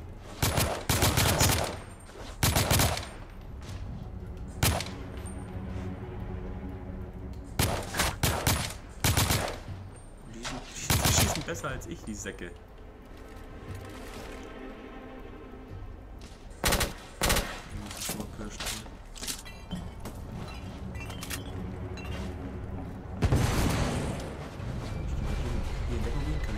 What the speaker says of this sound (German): ich werde schon beschossen